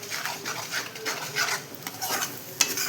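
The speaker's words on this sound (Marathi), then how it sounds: "पूर्ण शिजेपर्यंत त्याला चमच्याने मस्तपैकी हलवून घ्यायचे आहे." Egg bhurji fries with a steady sizzle as a spoon repeatedly stirs and scrapes the pan up close, with no one talking.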